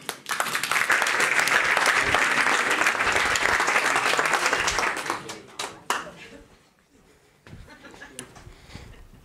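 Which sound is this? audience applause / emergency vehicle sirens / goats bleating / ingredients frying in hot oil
audience applause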